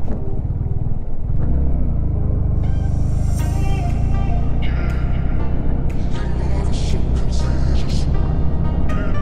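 A vehicle's engine rumbles and revs hard while stuck on a mountain road between Pangong Lake and Hanle, a loud, continuous low growl with grinding strain, as people talk over it.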